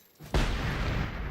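A grenade explodes in the video game Generation Zero: after a brief quiet moment a sudden loud blast hits, then a sustained rumbling roar carries on to the end.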